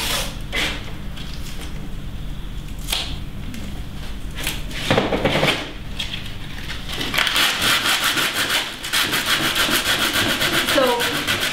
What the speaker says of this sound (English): some people actually sand their paintings dry